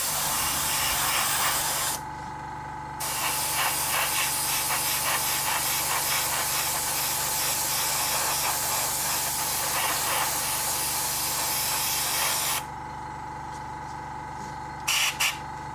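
Matte varnish sprayed from an aerosol can onto a 3D printed model: a loud, steady hiss in two long bursts, with a short pause near the start and a faint tail after the second burst ends.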